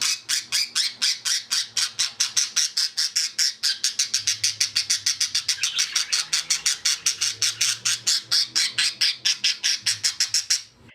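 Pet budgerigar hens squawk loudly and close in a long, unbroken run of rapid, harsh calls that carry on steadily for the whole stretch, with no talking.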